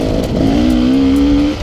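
An RR300 enduro motorcycle engine revs steadily under load in fourth gear on a trail, a loud, close drone that holds and slowly rises in pitch.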